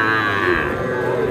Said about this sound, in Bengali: এই গরুটা মোটামুটি 10-11 মাস বয়স, 32 দাম বলছে।